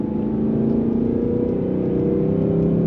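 A Ford Mustang 5.0 GT V8 in quiet exhaust mode, held in third gear, revs steadily from about 3000 toward 4000 rpm with a smooth, muted drone rising slightly in pitch, heard up close with no talking.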